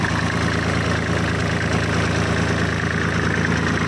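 A Kubota 34 hp tractor with its original, never-rebuilt diesel engine idles steadily after several minutes of running, a constant low throbbing rumble with even mechanical knock, loud and close with no talk.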